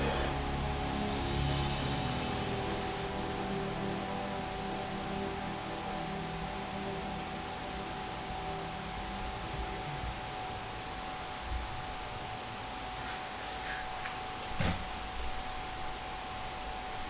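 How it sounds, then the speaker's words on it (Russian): White noise played through headphones during a Ganzfeld experiment in an apartment, a steady, even hiss that continues unchanged for the whole stretch, with a couple of faint brief clicks near the end. "и белый шум в наушниках"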